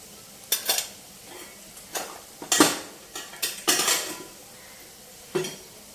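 A spoon scrapes and clinks against a pan as coriander powder, cumin powder and a pinch of masala powder are stirred and fried for a spiny gourd pickle. Several sharp, close metallic strokes come in irregular bursts over a faint background.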